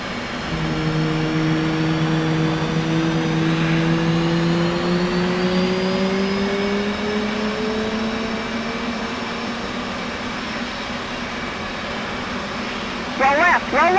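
F/A-18 jet engine spooling up during a cold start in the DCS flight simulator, a steady rising turbine whine with climbing tones that holds loud throughout, with a few faint clicks near the end.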